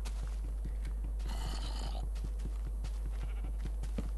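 A Minecraft sheep bleats once, brief and fairly clear, over a steady low hum and soft ticking background sounds.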